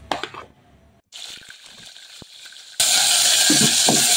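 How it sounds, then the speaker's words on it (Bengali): Onion paste hits hot oil on a stovetop while cooking fish with frozen broad beans: quieter clatter first, then a loud, steady broadband sizzle bursts in and holds to the end. "চুলায় তেল দিয়ে দিয়েছি, এখন পেঁয়াজ বাটা দিব।"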